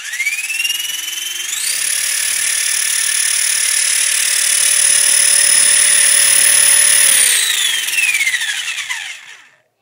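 A small-scale prototype streetliner motor spins up to a steady high whine that rises in pitch, holds for several seconds, then winds down, loud and close with no talking.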